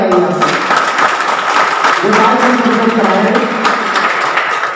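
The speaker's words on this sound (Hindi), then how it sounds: "डॉक्टर जी के लिए भी जोरदार एक बार ताली लगाइए" At a press conference a room full of people gives the doctor a burst of loud, dense clapping that holds steady for several seconds and then trails off, with voices underneath.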